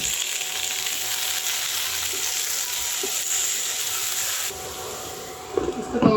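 Mixed green, red and yellow capsicum with carrot frying in a pan, a steady loud sizzle running throughout, dropping slightly near the end before a few clatters of stirring.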